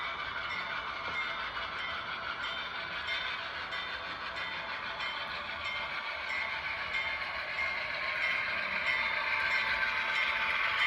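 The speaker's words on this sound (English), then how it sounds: "we're having fun on YouTube running trains" An HO scale model train runs on a layout, giving a steady, continuous rumble and clatter that holds at an even level and swells slightly toward the end, with no talking.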